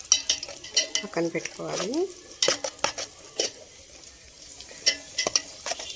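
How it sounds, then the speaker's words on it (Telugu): Bombay rava (semolina) roasting in a pan while being stirred, giving soft scraping and faint dry sizzle with intermittent utensil clinks, under brief talk. "బొంబాయి రవ్వని గోల్డ్ కలర్ వచ్చే వరకు వేయించుకోవాలండి"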